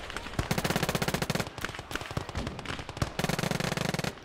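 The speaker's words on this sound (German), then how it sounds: "Er schießt und ich schieße zurück." Rapid automatic gunfire in the WWII game Gates of Hell, with sustained machine-gun bursts at the start and end and scattered single shots between, loud and close with no talk.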